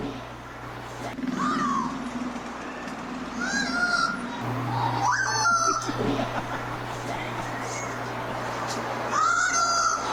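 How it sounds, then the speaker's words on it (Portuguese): A parrot squawks and chatters in short, rising calls, a few bursts spread over the clip against a noisy background hum. "Vamos ouvir de novo o papagaio?"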